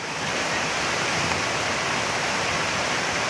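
Loud, steady rush of lake water overflowing after two days of rain, pouring continuously, a dense roar with no voices.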